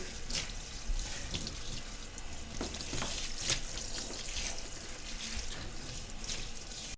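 Water runs steadily from a tap over a Maine Coon cat being bathed, rinsing degreaser from its coat; a continuous close splashing hiss with small irregular spatters, no voices.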